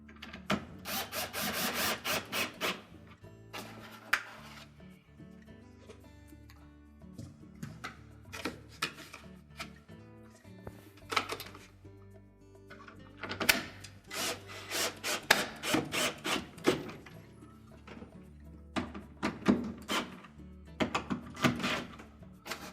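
Tightening the bolts on a Whirlpool washer drain pump during repair: repeated bursts of metallic ratcheting and rubbing, close and fairly loud, in clustered runs with short pauses between.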